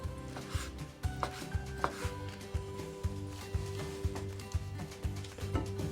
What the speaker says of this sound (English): And cut the caps into thin strips.